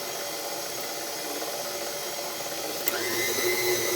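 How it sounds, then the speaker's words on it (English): A stand mixer whirs steadily while beating buttercream in a bowl, a close, moderately loud motor hum with a faint rhythmic churn; a short knock partway through is followed by a slightly louder, higher-pitched run. "my mixer's doing good so far"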